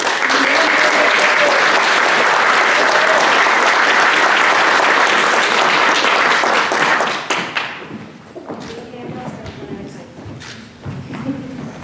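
At a college honor society induction ceremony, an audience gives sustained loud applause for new members, which thins out after several seconds as a few scattered claps and thumps linger and a voice begins speaking.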